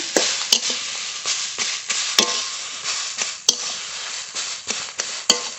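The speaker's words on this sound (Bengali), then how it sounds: "এইভাবে নেড়ে নেড়ে এখন ভেজে নেব ভালো করে।" Food fries in a pan for a Bengali home-style dish while a utensil stirs it, scraping and knocking against the pan in irregular strokes over a soft, continuous sizzle.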